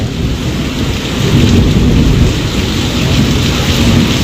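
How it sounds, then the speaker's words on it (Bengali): Heavy monsoon downpour in Arambagh pours down as a loud, dense, unbroken roar of rain, with low rumbling thunder blended into the wash. "এখানে তো প্রচুর পরিমাণে বাজে পড়ছে বৃষ্টিটাও বাড়ছে"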